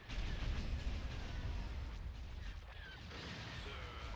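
Bombers dogfight in the Empire at War Remake space battle game, with a dense, continuous rumble of distant blasts and weapon fire, booming steadily without clear individual shots.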